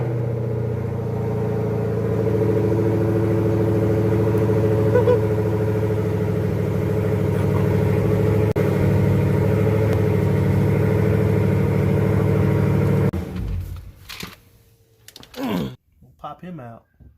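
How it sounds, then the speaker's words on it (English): A car engine idles in a steady, loud, low hum near the microphone, then cuts off and leaves a few clunks and rustles. "just gonna start the car"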